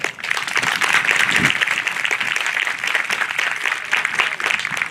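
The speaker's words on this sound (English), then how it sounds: "Give yourself a round of applause." High school graduates at a 2021 graduation ceremony give a steady round of applause, a sustained, fairly loud wash of many hands clapping.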